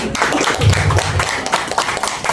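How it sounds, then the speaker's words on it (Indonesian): Clapping from an audience at a union branch congress in Indonesia, dense and fairly loud, with a low rumble of voices and room noise underneath throughout the short burst. "Oke, tepuk tangan."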